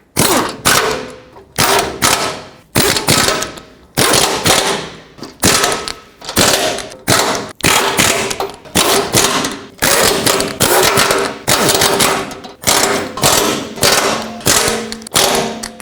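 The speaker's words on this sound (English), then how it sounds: "I'm going to start with this bracket over here, snug them all up." Power tool tightening the bumper support bracket bolts on a 2007-14 Chevy Silverado, loud repeated rattling impact bursts of about a second each, separated by short pauses, close up with no talking.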